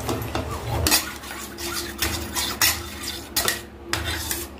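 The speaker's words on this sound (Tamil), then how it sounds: "தட்டி இல்லாம கிண்டி விடுங்க." A spoon scrapes and clinks against a metal pot while stirring a warm herbal soap mixture, making repeated rough strokes and sharp knocks close by.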